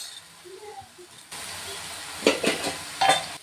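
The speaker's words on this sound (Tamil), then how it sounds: "இந்த மாதிரி குழம்பெல்லாம் ஊற்றிட்டுங்க நல்லா கிளறி விட்டுறலாம்" Gravy is poured over chapati pieces in a hot pan and stirred, with a quiet start that jumps to a sizzle and a few sharp bursts of scraping and spattering close by.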